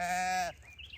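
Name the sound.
sheep bleating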